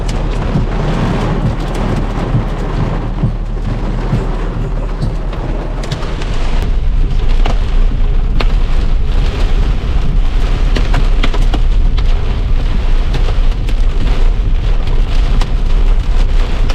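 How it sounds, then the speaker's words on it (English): Hail and rain pelt a vehicle driving through a thunderstorm under a flash flood warning, a steady loud wash of drumming impacts that intensifies partway through, with rumbling road and storm noise underneath. "And now it's hailing,"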